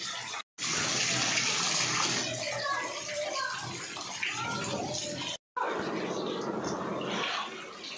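Dirty rainwater from heavy rain gushes and splashes through a flooded house, a continuous rushing flow with two brief cutouts, while people talk over it.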